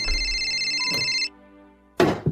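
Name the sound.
cellphone ringing with an incoming call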